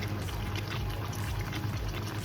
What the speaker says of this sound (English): the water is boiling off kind of fast